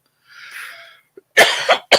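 A faint breathy hiss from an oxygen machine, then a quick couple of sharp, close coughs.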